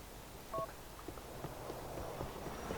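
Push-button phone keys are dialed in Grand Theft Auto IV: a few faint beeps spaced out over a low, steady background hum.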